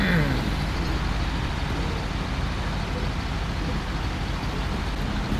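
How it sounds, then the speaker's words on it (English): A truck engine in the SnowRunner driving game, a steady low rumbling drone that holds evenly throughout, close and loud with no pauses. "Truck sounds."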